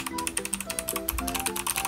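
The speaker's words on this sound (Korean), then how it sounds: "키보드에 이런 식으로 앞에 메모장을 띄워가지고 타이핑이 되는지 한번 확인해보도록 하겠습니다." Rapid, steady clicky keystrokes from a Cox CK700 optical clicky (blue switch) keyboard, typed continuously and close up with no talking.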